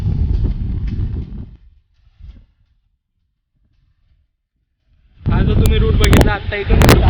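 Strong wind buffets the microphone in loud roaring gusts on a mountain trek to Peb Fort near Matheran, dying away into near silence before the gusts return just as strongly.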